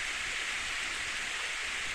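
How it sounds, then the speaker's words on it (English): Steady, dense rain pours in the Steins;Gate visual novel game, a continuous loud hiss of a full downpour with no pauses and no voices. "In less than a minute, the rain turns into a full downpour."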